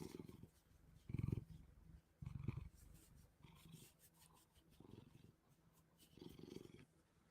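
A big cat purring, a low rumbling purr that swells in several uneven bursts over faint background noise, close to the microphone, with no speech.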